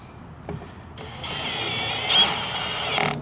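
A power driver whirs up and runs steadily as a self-tapping screw bites into the metal rear door of a Ram ProMaster van, with a brief click before it starts and a strained pitch near the end.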